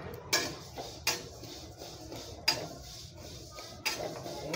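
Sesame seeds roast in a pan for jaggery til laddoos and are stirred nonstop, a quiet dry rustle broken by several sharp scrapes and knocks of the utensil against the pan.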